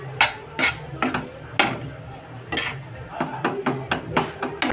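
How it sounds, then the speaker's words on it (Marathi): A spoon mixing black jaggery into wheat flour in a pan or bowl, with repeated close clinks and scrapes of metal against the vessel in an irregular rhythm, no talk. "आता ते फक्त व्यवस्थित मिक्स करून घ्यायचं आपल्याला।"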